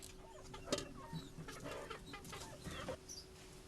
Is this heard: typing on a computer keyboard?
no